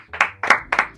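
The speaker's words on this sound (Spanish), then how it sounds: "Un aplauso." Several sharp handclaps ring out in a quick, uneven burst, close and fairly loud, like a small audience starting to applaud.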